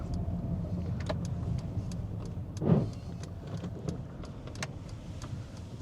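Inside a car on a Glasgow driving test route, the engine hums steadily as the car eases toward a roundabout under braking, with a soft mechanical whoosh midway and faint rhythmic indicator clicks.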